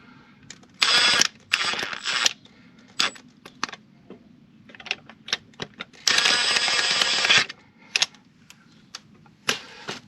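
A ratchet tightens bolts on a diesel engine's auxiliary belt tensioner, with bursts of fast clicking, two long runs and many short clicks and knocks in between.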